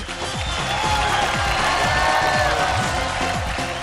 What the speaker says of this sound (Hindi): तो एक बार जोरदार तालियां हो जाएं इंडिया के टॉप 5 डांसिंग स्टार्स के लिए